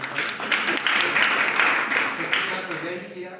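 An audience applauds participants at a youth day event, a broad wash of clapping that swells and holds, then fades toward the end, with a voice heard over it.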